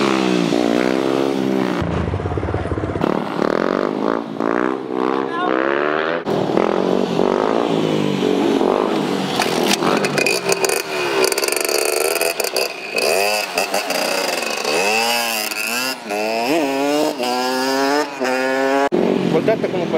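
Motorcycles in a lot revving and accelerating up close, engine pitch rising and falling in repeated loud sweeps, with people talking over the noise.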